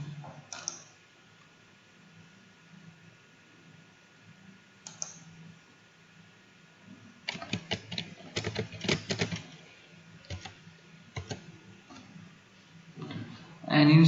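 Computer keyboard typing comes in scattered bursts of clicks and taps, mostly clustered in the middle and later stretch, fairly quiet in an otherwise hushed room.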